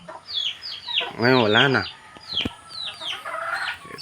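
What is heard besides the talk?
chickens clucking near pig pens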